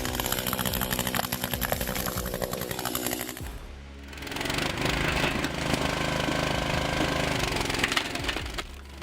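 A hydraulic log splitter working through dense red oak logs, a loud continuous engine drone with a brief dip in the middle before the machine roars back under load.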